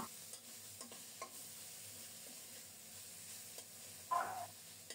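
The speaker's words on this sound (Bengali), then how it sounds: "মশলার সাথে সাথে ধুন্দুলটাও কষিয়ে নিলাম।" Sponge gourd frying with spices in a pan gives a quiet, steady sizzle with soft stirring scrapes, then a brief louder hiss burst near the end.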